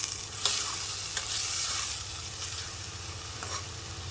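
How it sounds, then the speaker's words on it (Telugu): Ginger garlic paste sizzles and fries in hot oil in a pan for a chicken and egg curry, a steady close crackle broken by a few scraping stirs, with no talk. "టూ స్పూన్స్ ఆఫ్ అల్లం వెల్లుల్లిపాయ పేస్ట్ వేసుకుని ఇది కూడా మంచిగా ఫ్రై చేసుకుందాం"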